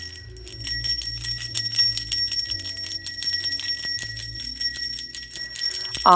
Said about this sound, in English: Speaking of which, I'm going to do us some bells.